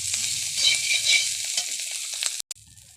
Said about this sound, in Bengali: এরপরে ঝিনুকগুলো তেলে ছেড়ে দেওয়া হচ্ছে। ভালো করে ভেজে নিতে হবে।